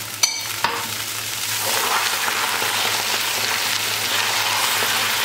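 A couple of sharp clinks, then a steady bubbling sizzle of caramel and milk boiling in a pan as it is stirred, close and continuous.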